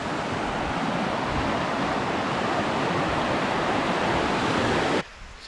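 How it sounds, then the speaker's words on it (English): A creek in the Alaskan wilderness rushes steadily nearby, a loud, even wash of flowing water that cuts off abruptly near the end. "Here's the creek."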